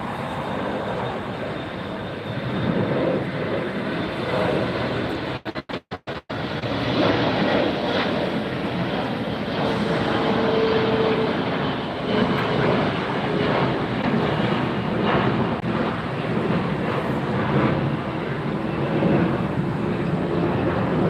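An Emirates jet airliner arriving from Dubai at Los Angeles International Airport produces a steady, broad engine rumble and hiss that stays loud throughout, broken by a brief dropout near the middle.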